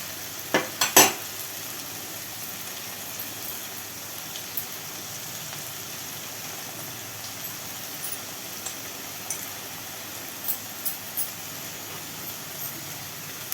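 Okra fries in oil as a soft, steady sizzle with a few sharp clicks of stirring early on, fairly quiet and close, with no voices.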